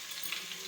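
Crushed garlic and asafoetida sizzle in hot oil, a short, close, steady hiss of frying with no voices.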